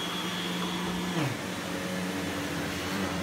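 İhlas Aura Cleanmax vacuum cleaner with a motorized head running over carpet, a steady loud whirring hum whose pitch sweeps downward once midway, continuous with no talk.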